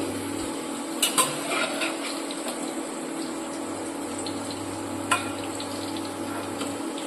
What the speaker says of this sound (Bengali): কালার চেঞ্জ হওয়ার আগে এটা আমি ফ্রাই করে তুলে নিচ্ছি